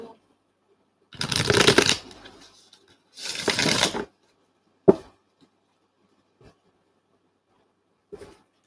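Tarot cards are shuffled in two long riffling bursts close by, followed by a sharp tap and a few faint clicks in an otherwise quiet room.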